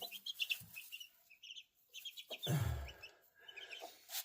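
A hen clucks softly in short bursts, with faint high chirps from chicks around her and a brief louder rustle near the middle.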